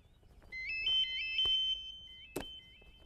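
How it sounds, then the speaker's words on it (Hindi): A phone ringtone plays a repeating electronic melody, with a couple of sharp clicks or knocks in the background. "अरे हाँ, फोन बाजता।"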